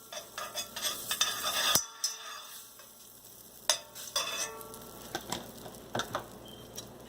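Margarine melts and sizzles on a hot tawa, a soft crackling fry with scraping and stirring clatter, louder at first and then settling into gentle intermittent spits.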